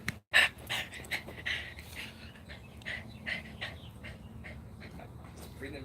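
A dog pants heavily in quick, steady breaths close to the microphone, with a brief whimper near the start and no talking over it.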